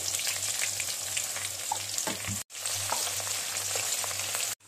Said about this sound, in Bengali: এবার পেঁয়াজটা দিয়ে দিল।